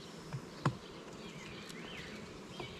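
Honeybees buzz at a hive beside a frame set out for them to clean, a faint, steady hum with a couple of brief louder passes close by.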